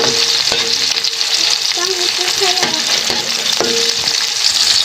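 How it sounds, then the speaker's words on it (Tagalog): Tomatoes sautéing in a pan for a mussel dish, a steady close sizzle with scraping stir strokes every second or so, loud and continuous throughout. "Hintay lang natin konting igisa ng konti. Mga kananay, medyo naluluto ng ating kamatis."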